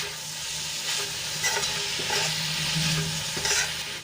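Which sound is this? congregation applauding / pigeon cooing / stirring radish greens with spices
stirring radish greens with spices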